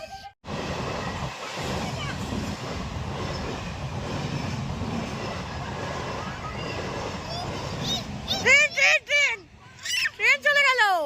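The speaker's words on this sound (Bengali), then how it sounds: "ট্রেন চলে গেল।" A train rumbles past at close range for several seconds with a dense, steady roar and clatter, then fades while people talk and call out excitedly over it at a picnic.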